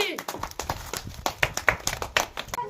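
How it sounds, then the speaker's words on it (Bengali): A group of people clapping after a ball-toss prize contest, a quick run of uneven close hand claps over about three seconds, with voices talking over them. "সব একটা হাততালি।"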